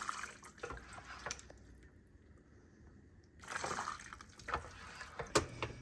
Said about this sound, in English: I'm going to run it through a colander just because I find it is easier